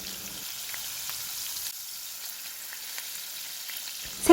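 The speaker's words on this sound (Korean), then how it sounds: "레몬 버터 소스를 생선 위에 끼얹어 주면서 구워요." Fish pan-frying while being basted with lemon butter sauce, a soft continuous sizzle with light crackling throughout, fairly quiet and close, with a brief clatter at the very end.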